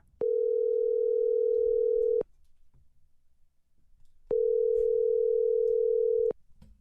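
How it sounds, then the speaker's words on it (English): Steady telephone tone sounding in two long unbroken bursts of about two seconds each, separated by a quiet gap with faint background murmur, loud and clear on the line. "Let's give him a call right now."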